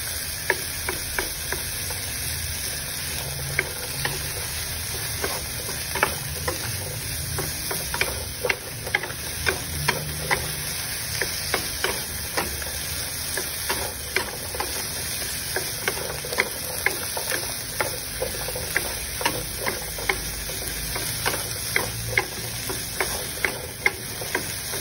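Diced potatoes fry in a pan for corned beef hash, a steady low sizzle broken by frequent small ticks and scrapes from stirring, close by and with nobody speaking.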